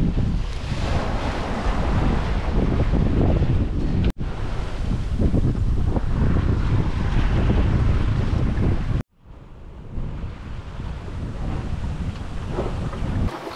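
Steady wind blowing about 13 knots roars across a microphone on a small sailboat on the open Pacific, mixed with wash of sea and hull noise, loud and continuous with two brief cuts.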